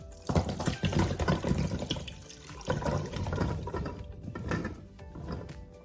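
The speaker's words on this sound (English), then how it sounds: "And we're gonna top them with water." Water pours steadily from a tap into a boiling pot holding washed carrots, splashing and gurgling, with the flow easing slightly toward the end.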